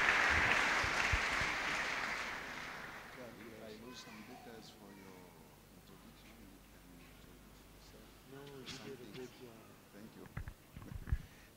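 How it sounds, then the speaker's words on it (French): A church congregation at a Pentecost service claps for Jesus in a loud, dense burst of applause that fades away within a few seconds, followed by people talking with scattered faint taps and knocks. "and together to clap for Jesus?"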